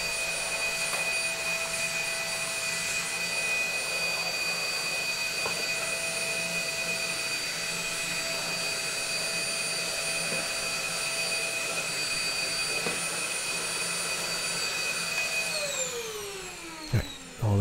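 A vacuum cleaner runs steadily and fairly loud, sucking up sawdust after drilling into a wooden ITG2 dance pad replica; the motor drone holds throughout, then winds down near the end.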